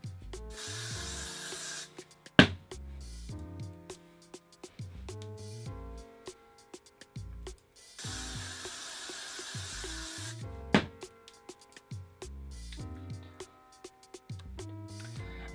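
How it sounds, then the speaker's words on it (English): Hairspray hisses onto a pastel Marie Antoinette-style wig in two sustained bursts of a few seconds each, with soft handling and rustling in between. "I'm going to use lots and lots of hairspray to just lay it over top"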